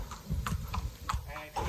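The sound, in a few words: horse walking, hooves clip-clopping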